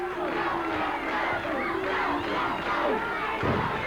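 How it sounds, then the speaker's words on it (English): A wrestling crowd at a Memphis tag-team match cheers and shouts continuously, a dense roar of many voices rising and swelling throughout with no break. "Crowd getting in behind the King."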